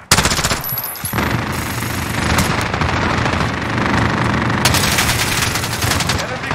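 Heavy automatic gunfire in a Call of Duty Modern Warfare multiplayer match, sustained rapid bursts rattling loud and close for several seconds, with game voice callouts in the mix.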